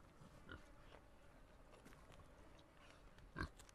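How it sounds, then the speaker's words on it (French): Pigs eat in the video game Water Delivery, giving faint grunts and oinks with scattered chewing noises over a low, quiet background and one short, louder squeal near the end. "C'est des cochons qui mangent des cochons?"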